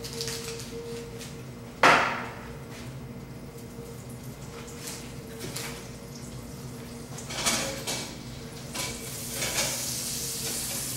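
Olive oil and butter heating in a pan for shrimp bisque give a soft, steady sizzle, with a sharp clatter near the start and occasional utensil scrapes and stirring noises, close and fairly quiet.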